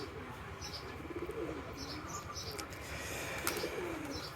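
Pigeons on a pigeon farm coo softly with occasional chirps and faint wing flutters, a quiet, continuous background of bird sounds.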